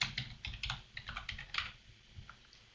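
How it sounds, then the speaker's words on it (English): Keys clatter in quick irregular bursts as a web address is typed on a computer keyboard, close and fairly quiet, with no voice. "Enter the web address"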